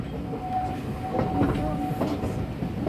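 A steam train on the Worth Valley Railway rolls along the rails, a loud, close rumble with rhythmic clickety-clack from the wheels over the track joints.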